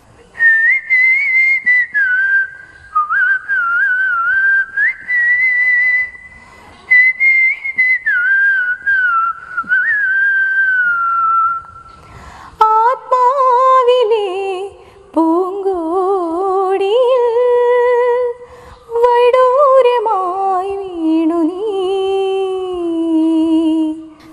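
A woman whistles a song melody alone and close, a loud, clear, sustained tune with gliding notes, first a single high line, then a lower, fuller, richer passage with short pauses between phrases.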